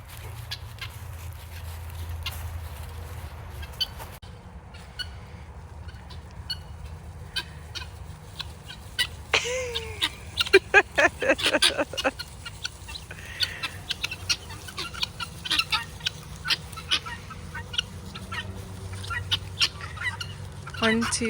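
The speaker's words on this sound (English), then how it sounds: "I'm bringing the guineas with me." A flock of guinea fowl calls on a farm, with scattered clucks that build into a busier run of sharp, repeated calls midway before settling back to sporadic notes.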